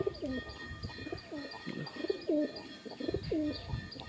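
A small flock of pigeons, mostly white, coos repeatedly up close in soft, rolling phrases, with faint chirps and background noise.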